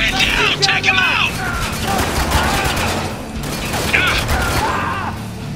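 Rapid AK rifle gunfire in the war shooter Spec Ops: The Line, sharp bursts and mechanical clatter in a dense, loud battle mix with shouting voices over it.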